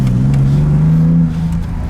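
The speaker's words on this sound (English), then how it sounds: "Let's go take it down that bumpy ass road as fast as we can." Nissonda car on new stiff coilovers driving fast down a bumpy road, a loud steady engine drone with a rising tone, then a slight drop in level near the end.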